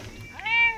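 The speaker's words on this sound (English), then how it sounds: "it's just a cat." A cat meows once inside the video game Fallout 76, a short, clear, close rising-and-falling call standing alone against quiet background sound.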